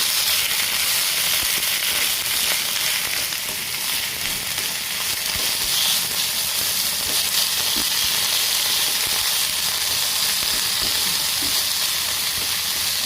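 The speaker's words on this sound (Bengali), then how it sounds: "কলই শাক ভালোভাবে তেলে ভেজে নিতে হবে।" Kolai greens fry in hot oil with a loud, constant sizzle and crackle that fills the whole stretch, close by and with no talking.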